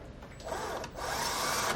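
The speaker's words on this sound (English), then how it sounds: "drill a 1/4 inch hole" A power drill whirs up briefly, pauses, then runs again as it bores a quarter-inch hole, close and fairly loud.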